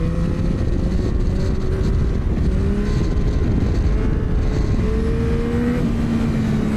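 An MT motorcycle pulls hard in second gear at about 55 km/h to lift into a wheelie, its loud engine note rising steadily under constant wind rush.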